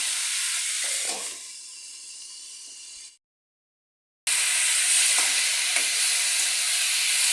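Rohu fish curry with ridge gourd cooking in a covered pan gives off a steady, loud sizzling hiss that cuts out for about a second, then resumes just as strong.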